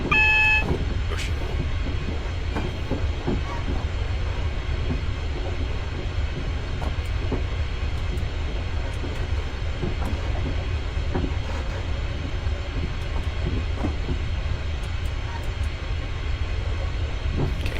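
A train on the Glasgow Airport Rail Link in Train Simulator 2016 slows under light braking, giving a steady low rumble and rolling drone with faint clanks throughout, no talk over it.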